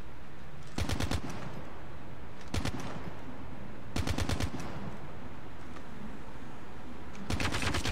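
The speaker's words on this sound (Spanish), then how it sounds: "estamos aquí probando este nuevo modo de disparo." Automatic gunfire from Call of Duty comes in four short, loud rattling bursts, separated by quieter stretches of game ambience.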